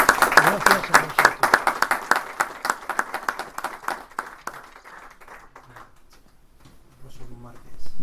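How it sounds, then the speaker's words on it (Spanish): Audience applause sends off a speaker at a Napoleonic-week lecture event: dense, loud clapping over the first few seconds that thins out and fades, followed by quiet room noise and a brief voice near the end. "vamos a despedir a Jorge Planas Campos con un aplauso"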